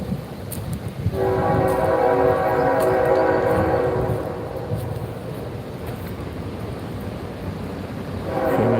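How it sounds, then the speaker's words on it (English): A train rumbles past with a long, loud horn blast that sounds for several seconds and then fades, leaving the steady roar of the cars. "and there's a train."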